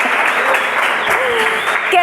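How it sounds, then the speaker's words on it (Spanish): Church congregation at Peniel Church in Cali applauding the Lord: loud, dense, continuous clapping with cheering voices mixed in, sustained for the whole stretch. "Denle un fuerte aplauso al Señor."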